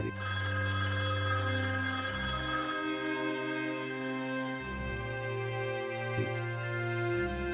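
A telephone rings and goes unanswered, in repeated bursts of electronic trilling separated by short pauses. The ringing is clear and sounds alone, with no voices.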